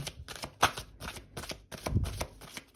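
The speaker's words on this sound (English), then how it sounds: "I will give the deck a few more shuffles" Tarot cards riffled and shuffled in several quick bursts, close and fairly quiet, with brief pauses between.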